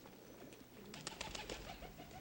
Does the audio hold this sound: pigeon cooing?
yes